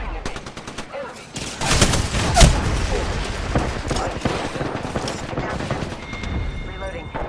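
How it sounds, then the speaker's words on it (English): Rapid gunfire in a shooter video game, dense bursts of automatic shots and booms layered over busy game noise throughout. "Opening fire on the enemy. The enemies are shooting at me."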